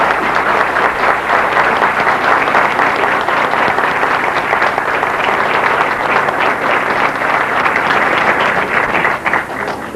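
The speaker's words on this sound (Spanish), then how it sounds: "pido que se vuelva a un aplauso así fuerte" Loud, sustained audience applause at a formal event, dense steady clapping from a full room lasting throughout, tapering slightly at the very end.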